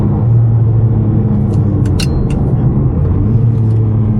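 Ferrari 550 Maranello being driven, its engine a steady loud low rumble from inside the cabin, with a few brief clicks and ticks on top.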